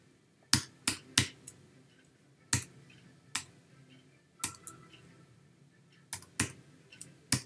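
Single keystrokes on a computer keyboard enter a code, giving sharp, separate clicks at an uneven pace, some in quick pairs, close and fairly quiet with nothing else heard.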